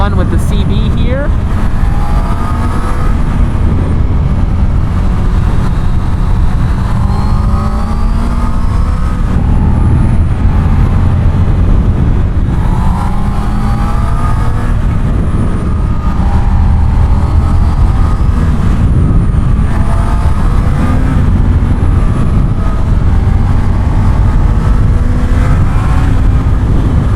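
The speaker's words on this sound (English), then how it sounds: "Having some fun with the CB here." A Honda CB650R motorcycle out on a road ride, its engine droning steadily under heavy wind rush for the whole stretch, with rising and falling revs as it accelerates and shifts, loud and close.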